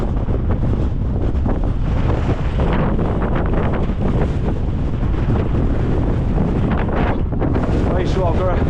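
Strong wind buffets the microphone beside a waterfall at Hell's Gill beck, with a loud, continuous roar and rushing water underneath.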